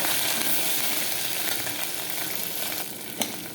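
Garlic paste fries with green chillies in a hot pan for a biryani masala, giving a loud, continuous close-up sizzle with a brief stirring scrape near the end.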